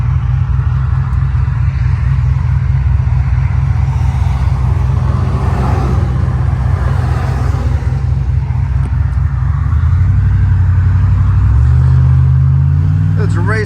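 A 650-horsepower sleeper Chevrolet Silverado pulls hard in second gear, its engine droning loud and steady from inside the cab, then the pitch climbs toward the end as revs rise; a voice is faintly present.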